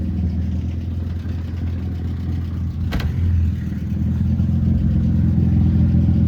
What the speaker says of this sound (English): We made it to the gas station, but I think I lost my exhaust again.